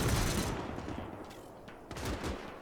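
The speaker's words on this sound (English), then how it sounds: "A DSK heavy machine gun started firing too" Bursts of heavy gunfire from a DShK 12.7mm heavy machine gun in the WWII game Gates of Hell, a dense volley at the start and then scattered loud shots over a steady battle rumble.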